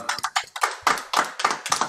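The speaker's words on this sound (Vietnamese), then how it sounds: "xin đại chúng cho một tràng vỗ tay thật lớn để cảm niệm và tri ân công đức của lão sư Trinh Diệu Âm" Applause from a small gathering at a Buddhist Pure Land chanting talk, sharp close claps in an irregular stuttering rhythm of separate bursts.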